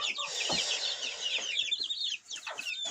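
Several young chickens, hens and roosters, cluck and chatter together close by, a busy overlapping stream of short clucks with a few higher chirps, steady throughout.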